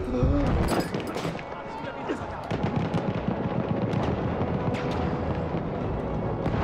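Battlefield 1 gunfire and artillery rumbling and cracking in a continuous battle din, with sharp shots and heavy booms layered under excited talk from a player.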